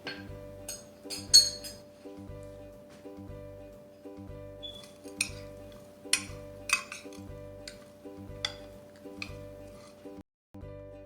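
Gram flour (besan) paste being mixed in a bowl for onion and potato pakora, with a spoon knocking against the bowl in sharp intermittent clinks over a quiet looping music bed.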